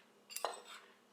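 A spoon briefly clinks against a bowl of apple ambrosia, a single faint light metallic tap.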